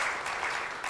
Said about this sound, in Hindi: उन सब के लिए एक जोर से ताली बजा सकते